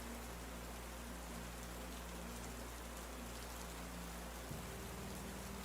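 Night rain at a lakeside summer camp falls in a steady, even hiss of drops on surfaces, continuous and moderately close, with a faint low hum beneath.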